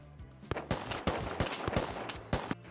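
Rapid gunfire bursts from the Rust survival game, a string of sharp, irregular shots at moderate distance and fairly quiet, with no talk over them.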